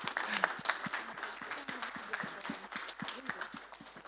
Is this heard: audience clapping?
yes